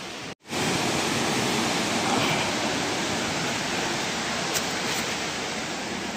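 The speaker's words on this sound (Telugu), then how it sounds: "ఇది గుండాల వాటర్ ఫాల్స్." Gundala waterfall rushing down, a steady, loud, dense roar of falling water that continues nearly unbroken apart from a momentary dropout near the start, with no voices.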